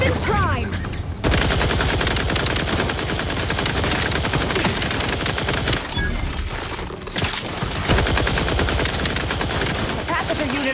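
Wrist-mounted weapons in The Outer Worlds 2 firing in a dense, continuous rapid barrage that starts abruptly, drops out briefly near the middle, then resumes loud and close.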